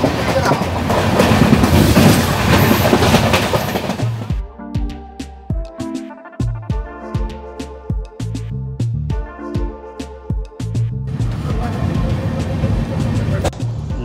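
The 13145 Radhikapur Express rolls into Nabadwip Dham station: loud, dense running-train roar at first, then slower rhythmic clickety-clack wheel beats over rail joints as it eases in, before a louder rumble returns.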